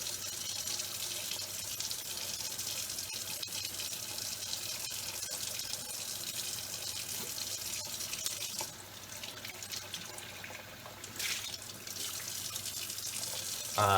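Water sloshes steadily as a vintage milk bottle, dug up from an old dump, is dunked into a sink of cleaning solution, a continuous running, splashing wash with a brief dip in level partway through.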